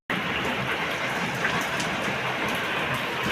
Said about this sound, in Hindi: बारिश हो रही है, हमने गेट लगा दिए थे।